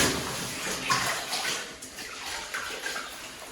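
Water pours and splashes steadily with a broad hissing rush, close and fairly loud, with no speech.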